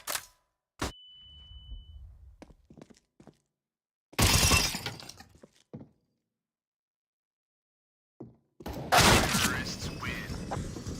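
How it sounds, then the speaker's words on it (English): A flashbang grenade goes off in a tactical shooter match, a sharp blast with a bright ringing whine, followed later by further loud bursts of explosive noise, with scattered game clicks and impacts between them. "Flashbang."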